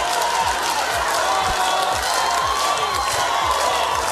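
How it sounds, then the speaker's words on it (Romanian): A theatre audience at the Moldova Are Talent final gives a standing ovation: dense, continuous applause and cheering fill the hall, loud and steady throughout. "sala vă aplaudă în picioare"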